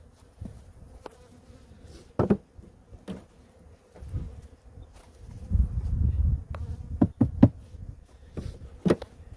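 Honey bees buzz around an opened hive box at close range, intermittent droning swells mixed with sharp knocks and clatters of frames and wood being handled.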